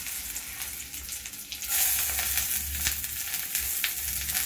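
Finely chopped shallots hit hot oil with butter in a pan for a vegetable soup, a close, steady sizzle that swells louder partway through, with faint stirring; no speech.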